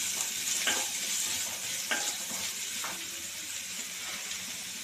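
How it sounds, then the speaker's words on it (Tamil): Onions sizzle in hot oil in a pan, a steady close frying hiss broken by a few louder scraping bursts as they are stirred, with no talking. "பொரிஞ்சிருச்சு வெங்காயத்தை ஆட் பண்ணிடலாம் லைட்டாக கிண்டி விட்டுக்கலாம்"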